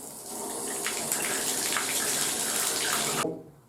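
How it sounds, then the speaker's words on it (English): Water gushes steadily from a faucet with a newly replaced Price Pfister pressure balance cartridge for about three seconds, a constant hissing splash, then cuts off abruptly. "got water coming out now"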